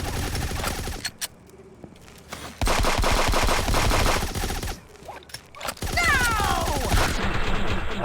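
Sustained automatic gunfire in the video game Fallout 76, loud rapid bursts broken by short pauses and quieter stretches, with a whooshing effect near the end.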